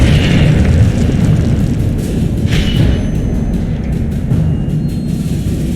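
A loud, continuous roaring fire blast from the Incendio spell in the video game Hogwarts Legacy, a dense rumbling whoosh that holds steady for several seconds with faint crackles on top.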